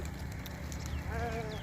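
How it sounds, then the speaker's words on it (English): Sheep in a flock heading to their meal with a shepherd behind them on a cool village morning, a couple of wavering bleats rising over a steady low rumble of background noise. "There are too many sheep going for their meal, and their shepherd is behind them."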